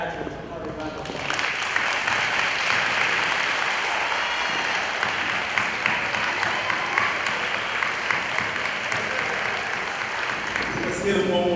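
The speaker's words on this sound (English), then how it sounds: "Everyone, please join me in giving all these graduates a hearty round of applause." An audience at a high school cording ceremony for graduates claps in sustained, dense applause that rises suddenly and holds steady for several seconds before tapering off.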